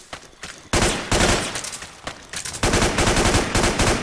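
Rapid automatic bursts from a P90 submachine gun in the video game Metal Gear Online, loud and close, with a short opening pop followed by sustained rattling volleys and a brief gap near the middle.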